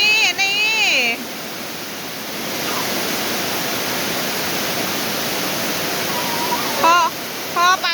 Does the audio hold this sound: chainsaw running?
no